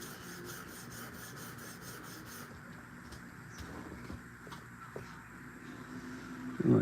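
A Kubey D2 steel knife edge is drawn across a sharpening stone, making a steady close rasping rub with a faint rhythmic scraping pattern throughout.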